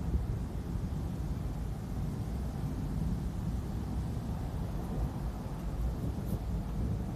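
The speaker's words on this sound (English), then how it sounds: "And the thunder, it sounds like, 100 airplanes flying over." Deep, continuous rumbling thunder from a heat lightning storm, rolling on without a break, a broad low roar with a faint hiss over it and no voices.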